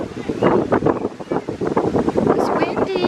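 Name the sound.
wind blowing outdoors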